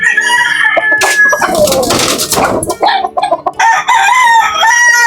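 A pure white Kelso gamefowl rooster crows loudly and clucks close by. Other birds call in the background, and no one speaks.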